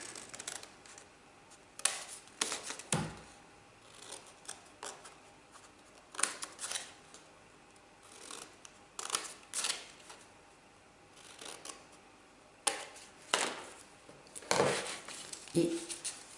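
Scissors cut paper for a paper star in a series of crisp snips, close and clear, coming in irregular bursts over a quiet background with pauses between cuts.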